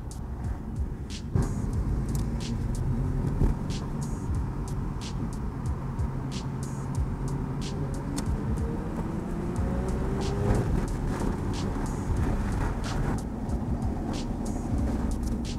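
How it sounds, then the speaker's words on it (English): Steady tyre and road roar from inside a stock 1995 Efini RX7 twin turbo, right-hand drive, on the move. A constant broadband rumble holds for the whole stretch, with faint engine tones sliding underneath and no talking. "Obviously, you have a lot of tire noise for sure"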